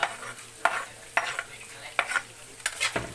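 Onions and garlic frying in a pan while a utensil stirs them, making repeated scraping strokes about every half second over a steady soft sizzle, close by with no talking.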